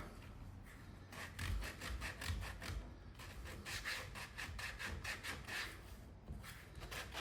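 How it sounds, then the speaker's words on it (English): Sandpaper rubs back and forth over the cork footbed of a Birkenstock sandal to remove cork sealer and expose the suede top cover. The strokes are steady and rhythmic, quiet and close, with no talking. "So, you're going to sand that up."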